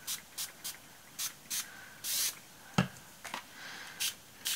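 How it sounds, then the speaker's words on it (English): Short hissing spritzes from a spray bottle, repeated at uneven intervals, close and fairly quiet, with no voices. "So my next step is to spray water there"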